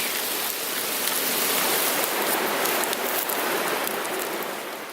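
Steady rain mixed with snow falls and patters on surfaces nearby, a dense hiss that holds evenly throughout before easing slightly at the end.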